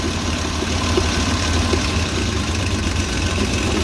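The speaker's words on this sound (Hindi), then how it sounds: "अभी एक इंजेक्टर का ग्रिप डिस्कनेक्ट करते हैं, देखते हैं कि इंजन जो है वो स्लो होता है कि नहीं होता।" A car engine idles steadily with one fuel injector disconnected, a continuous loud low rumble with a slightly uneven, misfiring pulse running unchanged throughout.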